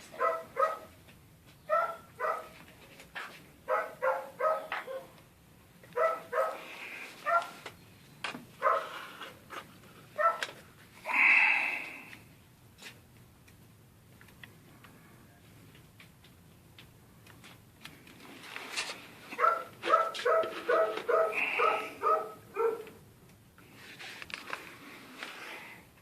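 Dogs at a regional animal shelter bark in repeated bursts, some close and some farther off, in clusters near the start and again toward the end, with rattling kennel noise and quieter stretches between.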